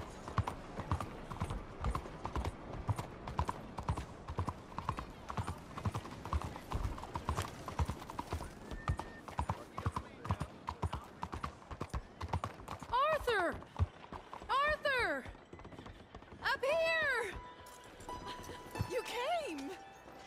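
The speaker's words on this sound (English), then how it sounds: "good old horses." Horse hooves clip-clop steadily on the trail in Red Dead Redemption 2, a near, rhythmic patter running the whole way, joined by bright tonal calls and chirps toward the end.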